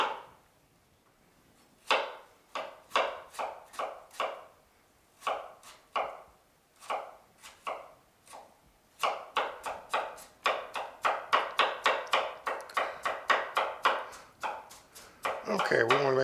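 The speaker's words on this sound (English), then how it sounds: "after chopping up these apples as finely as I can get them" A knife chops apples finely on a board in rapid bursts of sharp, close taps, with short pauses between groups and the pace quickening toward the end.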